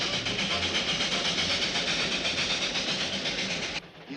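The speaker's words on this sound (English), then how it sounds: "Love that miserable... That beautiful little train." A small train rolls along the rails with a continuous loud rumbling clatter and hiss, steady throughout and cutting off sharply near the end.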